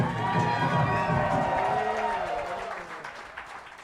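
A comedy club crowd breaks into loud applause and cheering, dense clapping and whoops that gradually thin out toward the end.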